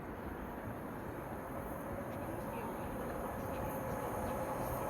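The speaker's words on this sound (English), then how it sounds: "Passing through now to Westmoreland Railway Class 196, running from Birmingham New Street to Shrewsbury via Wolverhampton and Telford Central" A West Midlands Railway Class 196 diesel unit running through Tipton station on the Birmingham New Street to Shrewsbury service gives a steady, fairly faint rumble and rolling hum, with no talking.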